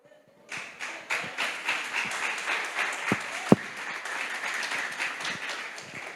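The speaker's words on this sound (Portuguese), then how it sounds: "Mais palmas para o Senhor Jesus" A church congregation claps together at a communion service, the rhythmic claps landing in a steady beat after a short pause. A couple of louder thumps stand out midway, and there is no speech over the clapping.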